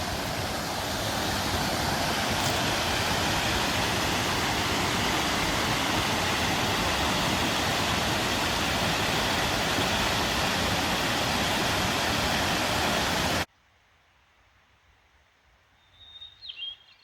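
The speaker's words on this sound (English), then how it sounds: "I knew I could hear water. Nice little lake waterfall series." A series of small waterfalls on a lake rushes loudly and steadily for about thirteen seconds, then cuts abruptly to near-quiet outdoor air with a brief bird call at the end.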